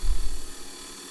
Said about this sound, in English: move it back and forth, up and down, and rotate it as you grind away at that 325 grit lap edge